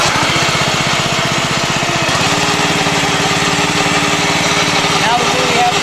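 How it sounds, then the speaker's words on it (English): A Sand Man machine's small engine runs steadily and loudly throughout, a constant buzzing drone with a rhythmic mechanical pulse that shifts in tone partway through. "Now that we have the machine running, to control your speed, use your throttle."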